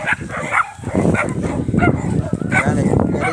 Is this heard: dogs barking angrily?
yes